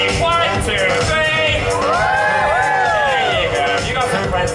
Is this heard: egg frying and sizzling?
no